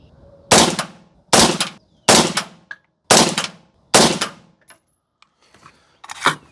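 AR-15 rifle with a 13.7-inch barrel firing outdoors: five loud, sharp shots spaced about a second apart, each with a brief ringing tail, then a pause and a sixth shot.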